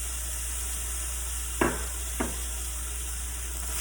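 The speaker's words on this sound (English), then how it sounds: "Give those a quick mix." Lentil soup ingredients with pepper flakes and salt get a quick mix in the pot, heard as two short scraping stir strokes over a steady background hiss.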